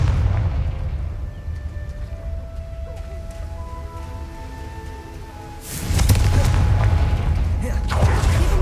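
Confringo fire spell in Hogwarts Legacy bursting into a loud boom near the end, with crackling rush after a stretch of ambient game sound and hum.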